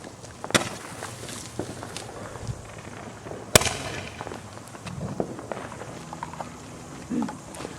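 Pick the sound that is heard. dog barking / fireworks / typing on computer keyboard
fireworks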